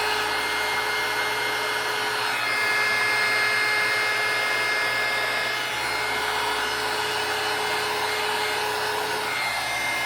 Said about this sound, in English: start heating it with your heat gun